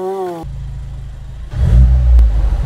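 A stage 2 tuned Ford Fiesta ST MK7 rolls onto a garage floor: a low idling engine note that swells into a loud, close rev partway through, after a short tonal sound at the start.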